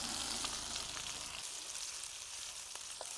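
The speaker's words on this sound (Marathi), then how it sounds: "मिरची चांगली परतून घ्यायची." Green chili and garlic frying in cooking oil for a village-style dry fenugreek leaf dish, a steady close sizzle and crackle that thins out after a moment, with a few faint stirring clicks.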